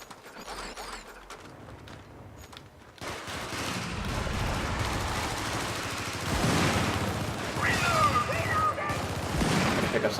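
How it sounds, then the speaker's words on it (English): Gunshots in a shooting video game. A quiet, sparse opening gives way to a busier stretch of scattered shots mixed with mechanical clattering and rumbling, growing denser and louder toward the end. "It's getting kind of dangerous with those shots."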